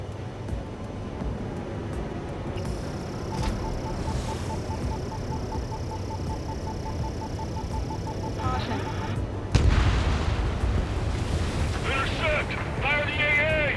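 Anti-aircraft gunfire in the combat flight game Ace Combat 7: a steady rumbling barrage under a rapid beeping tone, then a sudden, heavier burst of fire about two-thirds of the way through, with voices talking over it.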